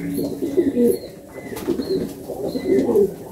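Pigeons cooing close by, repeated soft throaty coos in a loose rhythm, with faint chirps and background noise.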